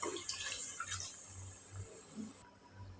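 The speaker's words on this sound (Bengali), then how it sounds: "পানি দিয়ে দিলাম" Water is poured into a pot of curry, a steady, close, watery hiss and splash running the whole time with a few soft low thumps; no voices are heard.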